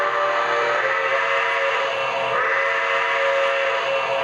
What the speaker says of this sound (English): here's your whistle.